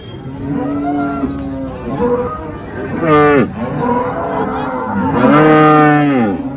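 Holstein Friesian cattle at a cattle market moo repeatedly, several long loud lowing calls close by, with murmuring voices in the background.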